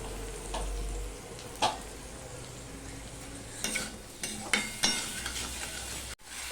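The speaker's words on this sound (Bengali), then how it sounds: "আমি মিশিয়ে নিয়ে ভাজতে থাকবো দেখো বন্ধুরা আলুটা ভাজা হয়ে গেছে" Soft sizzling of potatoes frying in a pan, broken by several scraping stirs and a clink of a utensil; close and without talk.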